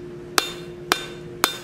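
Three sharp, loud hammer strikes ring out at an even pace on forged steel, a blacksmith straightening the puckered edges of an oak leaf curtain tie back, each blow leaving a short metallic ring with a steady hum underneath.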